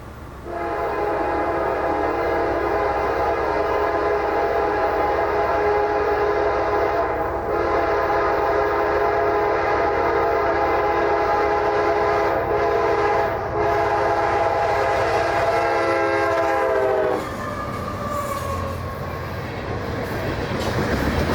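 A southbound freight train, number 795, rolls past near Folkston, Georgia, with a loud sustained horn chord held for many seconds over the rumble of wagons, then the horn cuts off and the rolling noise continues.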